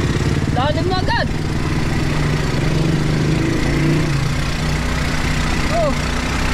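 A motorcycle engine idles in flood water during a typhoon downpour, a steady low rumble running throughout beneath constant rain noise, while people talk briefly over it.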